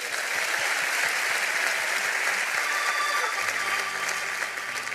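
A church congregation applauds together during a worship gathering, a steady dense wash of many hands clapping at close range that continues throughout, with a low organ or keyboard tone entering near the end.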